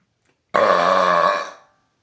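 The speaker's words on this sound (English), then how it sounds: "releasing 8 months worth of burps here." A single long, loud burp lasting about a second, rumbling and voiced, rising abruptly out of silence and trailing off at the end.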